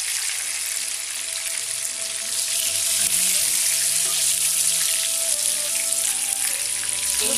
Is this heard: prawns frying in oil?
yes